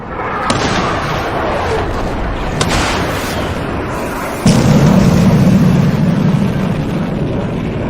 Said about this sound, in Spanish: En esta recreación digital se puede observar el aspecto de la explosión